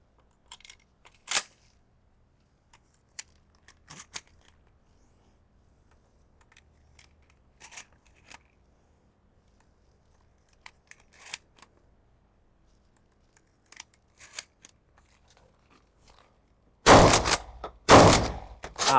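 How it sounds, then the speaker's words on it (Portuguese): Sparse sharp clicks and clacks from a Hatsan Escort pump-action shotgun being handled, then a loud close burst of shots near the end. "Vamos disparar mais alguns tiros."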